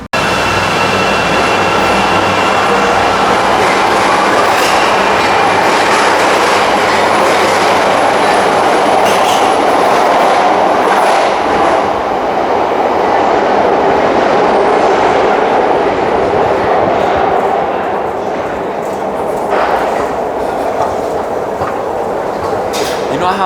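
A rail transit train runs steadily along the tracks, a loud continuous rumble and roar with occasional wheel squeal and clatter heard from on board, with no break for the whole ride.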